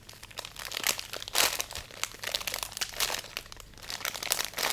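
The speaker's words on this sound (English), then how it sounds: "And this is a sponge in a package. It's so nice and crinkly." A crinkly plastic package holding a sponge is handled up close, giving a steady stream of soft crackling and crumpling with small bursts, no talking.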